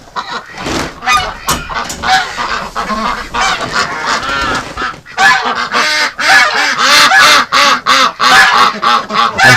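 Wintering ducks and geese honk and quack loudly and close by in a dense, continuous chorus of overlapping calls, with a short lull before the noise builds again.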